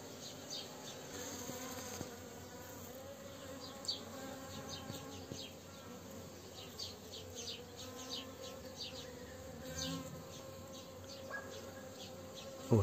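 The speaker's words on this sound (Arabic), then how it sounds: "شاهدوا أصدقائي كثافة النحل التي تتوافد على الماء رغم أن الطقس بارد" Dense swarm of honeybees gathering at water in cold, overcast weather, a continuous close buzzing drone with individual bees whizzing past, and no voices.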